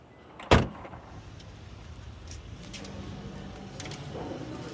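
A single solid thunk of a door closing on a 2026 BMW M2 CS, close and sharp, followed by quiet cabin ambience with faint mechanical whirs.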